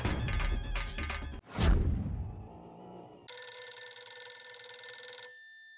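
Telephone ringing indoors, a sustained electronic ring tone starting partway through after a burst of music and a sharp swoosh, then cutting off near the end.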